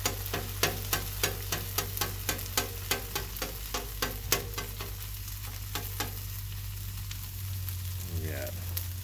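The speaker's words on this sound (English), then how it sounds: "Now turn the heat back up and actually like cooking the garlic through before I put it in my mix." Garlic cooking on a 22-inch Blackstone griddle, a soft sizzle under rapid rhythmic taps and scrapes of a spatula that stop partway through, leaving a low hum and brief talk.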